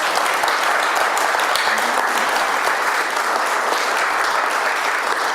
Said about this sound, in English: How about a round of applause for